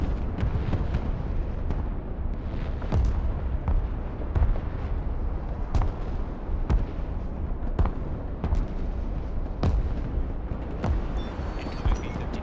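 Grenade artillery launcher fire in the real-time tactics game Broken Arrow, a steady barrage of dull booms and sharp impact cracks landing every second or so over a continuous rumbling battlefield din.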